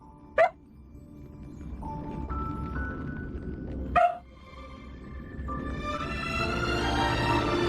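A pet dog barks twice, sharp and close, a few seconds apart over soft background game music.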